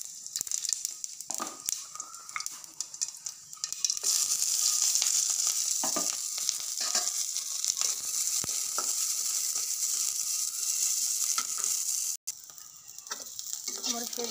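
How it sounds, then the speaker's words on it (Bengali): Chillies and onions fry in a little oil in a home kitchen, giving a close, continuous crackling sizzle with occasional stirring clicks that grows louder partway through. "মরিচ পেঁয়াজগুলো ভাজা হয়ে গেছে"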